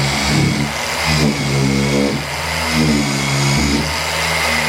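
An Adam's Polishes Swirl Killer Mini polisher runs steadily and close, its motor whir rising and falling in pitch as pressure is applied, with no talk.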